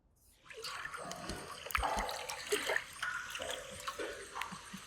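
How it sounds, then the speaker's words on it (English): A water sound effect plays quietly, with splashing, sloshing and trickling bursts of liquid heard close and at low volume. "Like here's water."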